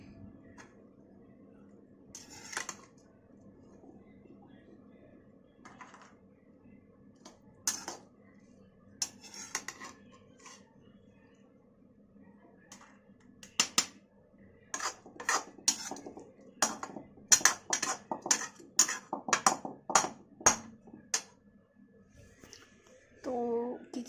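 Pots, lids and steel utensils clatter in a home kitchen while leftover dal is stored. Sparse knocks early give way to a dense run of sharp metallic clinks and scrapes, with someone speaking briefly between them.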